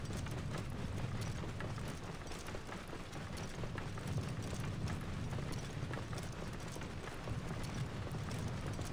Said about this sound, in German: Wir reiten durch die Wüste.